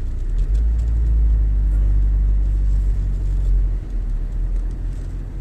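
A passing car's low engine rumble swells and fades on a road, a steady motor drone heard close by, with no speech over it.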